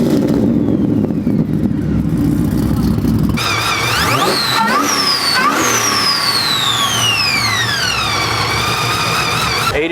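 Supercharged LS3 truck engine at a Lone Star Throwdown show, running loud and close at a rough idle before revving hard in repeated climbs, the blower's whine sweeping up and down with each rev.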